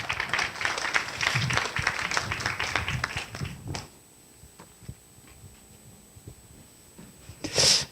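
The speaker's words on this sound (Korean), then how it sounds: "네, 박수로 맞이해 주시기 바랍니다" Audience applause at a Korea University graduate school of education anniversary symposium, a dense burst of clapping for about four seconds that cuts off abruptly, followed by a quiet room with scattered small noises.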